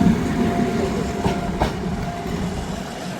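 A train rumbles past near Thachanthoppu station in a village area, a steady loud rolling roar with a faint clickety-clack of wheels, heard alone with no voices.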